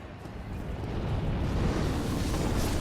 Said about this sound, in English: causing the dragon to breathe fire